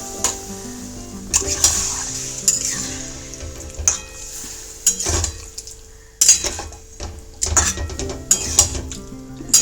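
Water from rinsing a mixer jar is poured into simmering Bengali egg curry in a pan. It lands as a splashing hiss, with spoon and pot clinks in irregular bursts close by and no voices.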